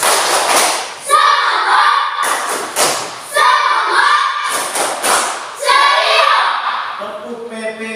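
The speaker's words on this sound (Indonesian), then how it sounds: "kita tepuk semangat sekali lagi" A classroom group performing a rhythmic spirit clap: loud, repeated bursts of many hands striking together in a patterned beat, with chanting children's voices blending between and over the claps.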